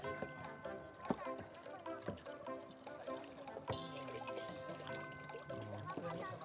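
Tap water running and splashing as a monk's alms bowl is rinsed, with a continuous nearby pour punctuated by knocks and clatter of the bowl, and voices talking over it.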